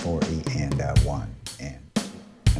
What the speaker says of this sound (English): The drum loop sounds like this.